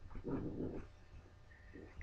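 A Doberman pinscher and a two-month-old pit bull puppy playing, with close, low rumbling growls in short bursts and a brief squeaky yip near the end.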